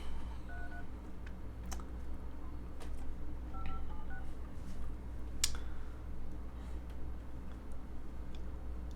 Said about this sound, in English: All right, let's call Caroline.